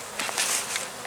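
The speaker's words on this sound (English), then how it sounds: "Are the bees flying?" A brief, close buzzing of bees flying around their hive in hot weather, a bright insect hum that rises and falls as they pass.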